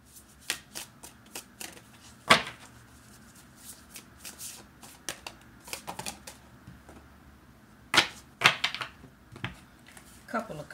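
Tarot cards are shuffled close by in a series of quick, papery riffles and flicks, with several sharper snaps scattered among the softer bursts.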